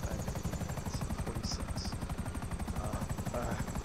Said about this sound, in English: There's an enemy helicopter.